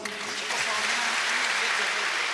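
A crowd at a church gathering in a Kinyarwanda-speaking congregation claps continuously, a dense even patter of many hands under faint voices, steady and moderately loud throughout.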